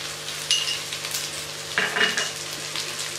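Steady sizzling of ginger and green chilies frying in a hot pan, with occasional clinks and stirring sounds of a utensil against the pan.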